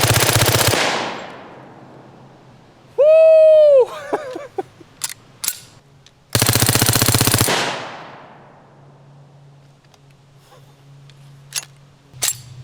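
Reising M55 World War II submachine gun firing outdoors: two loud, close full-auto bursts of about a second each, with metallic clicks and handling noise between and after them.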